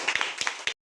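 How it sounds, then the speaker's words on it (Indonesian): A group of children claps in a classroom, a quick cluster of several sharp, slightly uneven hand claps that ends abruptly in silence. "ya, tepuk dulu"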